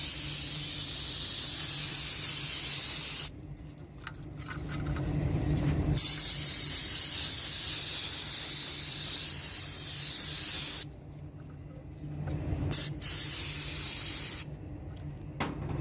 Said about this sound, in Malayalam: അപ്പോൾ നമ്മൾ ജസ്റ്റ് CRC എടുത്തിട്ട് ഒന്ന് ക്ലീൻ ആക്കി കൊടുക്കാം.